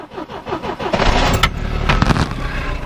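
A fuel-injected Triumph TR7 engine cranks with a quick rhythmic starter whir, then catches and roars loudly to life, settling into a steady running rumble up close.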